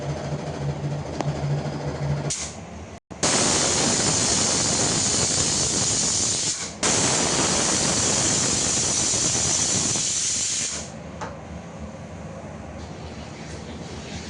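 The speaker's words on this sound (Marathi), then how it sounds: "आता आपण झाकण लावून घेऊया आणि 3 ते 4 शिटी घेऊया." A pressure cooker lets out a long, loud whistle of escaping steam while cooking prawn pulao, hissing steadily for several seconds, breaking briefly, then resuming before dropping to a softer hiss.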